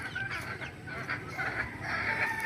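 Backyard chickens in Paltao, Pulilan, Bulacan cluck and squawk in a brief, busy mix of calls, fairly close and continuous over a noisy outdoor background.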